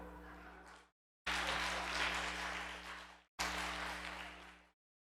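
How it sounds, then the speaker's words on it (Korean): An audience in a church service claps in applause, a dense wash of clapping in three bursts separated by abrupt short gaps, over a steady low electrical hum, with no talking. "네, 박수 하겠습니다"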